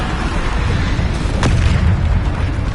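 Bombarda spell explosion in Hogwarts Legacy on PS5, heard as a loud, sustained rumbling blast with a brief sharp crack partway through.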